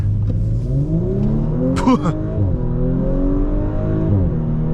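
A 2020 Audi S4 3.0T Premium Plus accelerating hard, its engine note rising steadily and loud throughout, heard from inside the cabin with a brief sharp tire or mechanical squeak near the middle.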